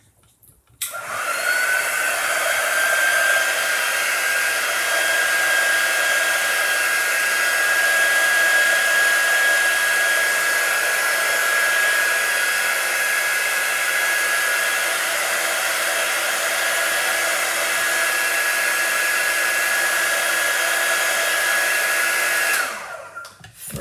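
A hair dryer blows steadily and loudly at close range for about twenty-two seconds, drying freshly applied chalk paint, its whine holding a constant pitch before it cuts off.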